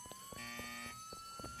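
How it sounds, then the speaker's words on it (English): A robbery alarm in the Roblox game Mad City rings steadily, a continuous rising electronic tone with layered buzzing overtones and repeated pulses beneath, moderately loud and unbroken across the whole stretch with no talking. "Somebody shut up this alarm."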